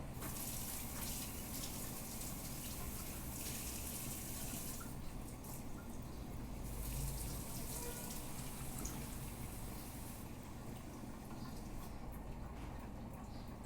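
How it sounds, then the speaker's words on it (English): Lukewarm water runs steadily from a tap into a cup, a continuous close gushing hiss that holds level throughout with slight shifts as the cup fills. "I'm going to fill this cup up with some lukewarm water"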